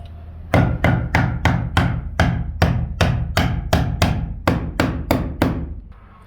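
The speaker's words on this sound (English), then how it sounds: "then I'll hammer my nails in up top" Loud, evenly spaced hammer blows driving nails into roof sheathing, about a dozen sharp strikes in a steady rhythm, close by.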